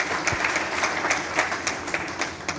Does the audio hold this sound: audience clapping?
yes